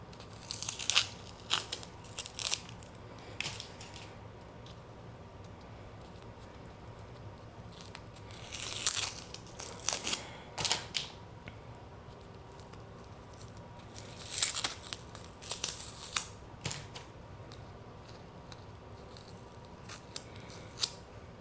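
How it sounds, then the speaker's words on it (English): Packing tape being cut and peeled off a mailed parcel of live plants, with scissor snips and tearing, crinkling bursts recurring in clusters over a low background hum, close and fairly loud in spurts with quiet gaps between. "Let me get all this tape off and I'll show you it again."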